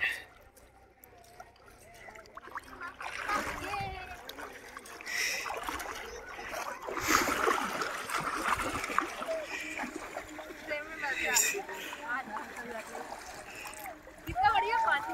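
Splashing in river water during a family picnic outing, irregular wet splashes and sloshes up close, with people talking throughout.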